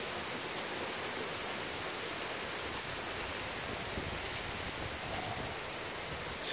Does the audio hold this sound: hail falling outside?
yes